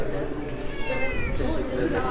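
A cat gives a drawn-out meow in a busy indoor cat beauty contest hall, with people talking nearby over it.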